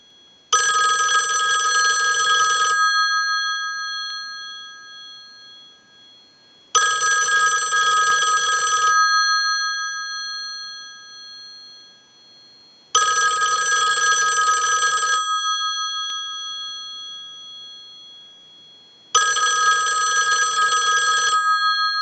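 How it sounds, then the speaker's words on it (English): A Western Electric 2500 desk telephone bell rings in four long bursts, each about two seconds, with silent gaps between them, loud and close in a quiet room. "use the analyzer and send a ring cycle like you were getting a call"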